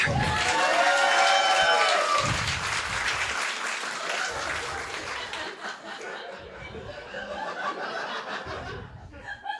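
Applause and scattered laughter from a stand-up comedy audience in a shelter, loud and dense at first, then thinning into patchy clapping and chuckles with a voice briefly over it.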